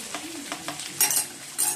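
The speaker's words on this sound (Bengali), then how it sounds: "এই বন্ধুরা চিকেনটা আবার ভেজে নিচ্ছি" Chicken pieces frying with onion and capsicum in a pan make a close, steady sizzle, broken by a few quick stirring scrapes and two brighter bursts of spattering.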